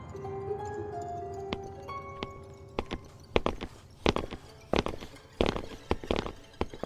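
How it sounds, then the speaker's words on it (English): Footsteps draw closer over faint tonal sounds that fade out, becoming a series of distinct, echoing thuds that grow louder and more frequent. "We stood still as the footsteps got closer."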